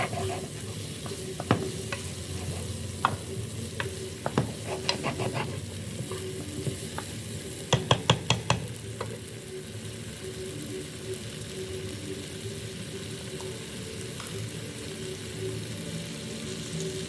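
Curry sizzles steadily in a hot pan while a utensil stirs it, making a scatter of sharp scraping clicks and taps, with a brief rapid burst of scrapes partway through, then an even frying hiss. No one speaks.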